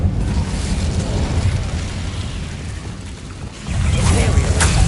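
Incendio fire spell cast in Hogwarts Legacy: a loud, roaring, rumbling rush of flame with a mechanical rattle, swelling to a stronger burst near the end.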